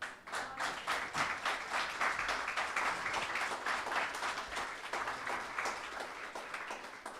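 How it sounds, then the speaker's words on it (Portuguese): Applause from a church congregation at a sermon, a steady wash of many hands clapping at moderate distance, continuing evenly throughout without speech over it. "Aplauda Jesus."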